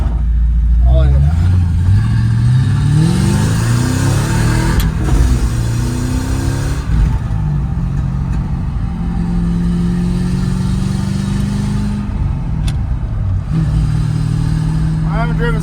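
A manual Ford Thunderbird revs and accelerates up through the gears while driving toward the mountains, its engine pitch climbing and dropping repeatedly from inside the car, with people talking over it.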